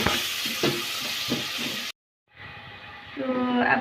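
Onions and garlic sizzle and frying in a pan for a palak gosht dish, with loud steady crackle and occasional stirring scrapes, broken by a brief silence before the sizzle resumes and swells.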